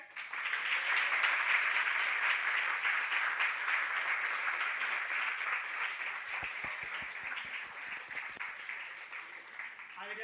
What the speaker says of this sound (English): If you like it, you clap.